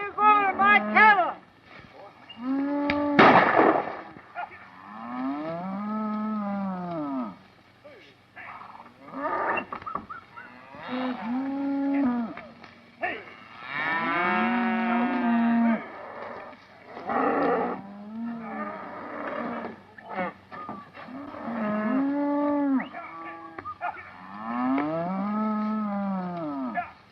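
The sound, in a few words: cattle mooing as herd is driven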